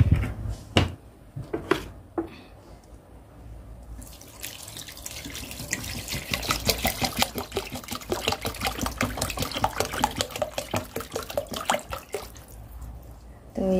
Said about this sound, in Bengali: তো এই যে পানি দিয়ে দিলাম।